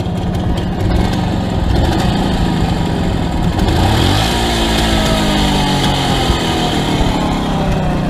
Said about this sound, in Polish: coś chrupnęło w silniku. I tak rzęsi podczas jazdy.